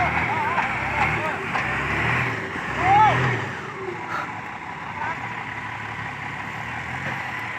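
Kubota and Claas tractors strain to pull a big stuck machine, a continuous engine drone with a brief surge in the middle, heard at moderate distance under shouting and talk.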